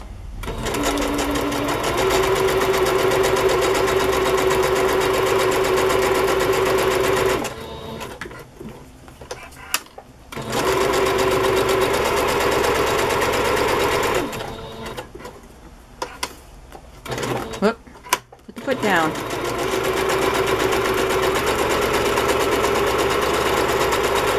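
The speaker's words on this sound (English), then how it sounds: "So I just kind of wiggle my card around and sew." A sewing machine messy-stitches around a paper card, running in three long loud bursts separated by pauses filled with paper handling and clicks.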